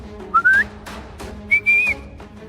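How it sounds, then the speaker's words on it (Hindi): A person whistles two short rising notes, the second longer and steadier, close and clear with a gap between them, over a faint background and no talking. "ये सीटी की आवाज कहाँ से आ रही है?"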